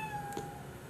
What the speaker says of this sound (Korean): 아, 어디서 오는 거야 고양이가?